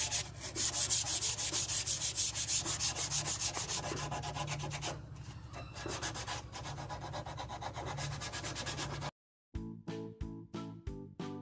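Wood being hand-sanded with 120-grit sandpaper as prep before sanding sealer and varnish, a steady, rhythmic back-and-forth rasping close by, then a short pause and a few separate brief strokes.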